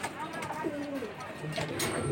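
Domestic high-flying pigeons coo softly in a short burst, a few low murmuring calls close by over background chatter, with people talking throughout.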